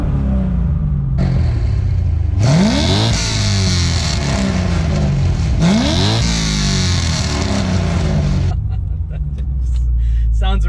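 A Corvette C6 Z06's naturally aspirated LS7 V8, fitted with long tube headers, idles with a deep rumble, then gets two loud, sharp revs that rise and fall before settling back to idle, close up with no talk.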